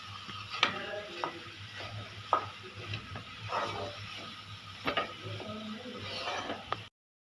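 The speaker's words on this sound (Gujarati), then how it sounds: "સેજ એનો કલર ચેન્જ થાય ત્યાં સુધી આપણે એને સક્કરિયાને શેકવાના છે" Sweet potato mash roasting in a pan, stirred and scraped steadily with a spoon, giving repeated close scraping strokes over a low sizzle before the sound cuts off.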